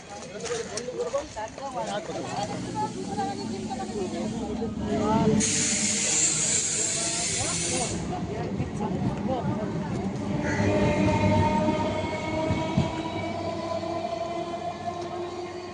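A train rumbles past a station platform with clattering wheels and a burst of hissing brake or air noise, while people talk nearby.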